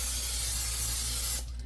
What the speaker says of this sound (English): I'm gonna spray the bottom down with that before we put our ribs